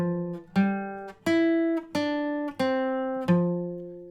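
Guitar riff played as single plucked notes, six clean distinct notes in an even rhythm, each ringing out before the next, played alone.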